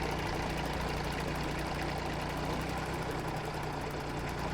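A 1959 Fordson Dexta tractor engine runs at a steady speed, a continuous loud, rough mechanical drone that holds even throughout with no voices.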